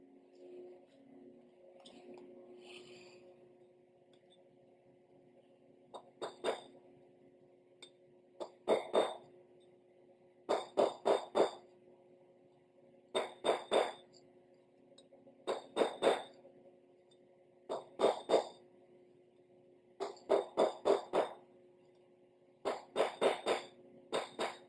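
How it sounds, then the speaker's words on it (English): A hammer taps a small punch on a 14-bolt axle hub, giving bright metallic clinks in quick clusters of two to four taps repeated about every two to three seconds, close and crisp over a faint steady hum. "get a punch in there and just lightly tap down"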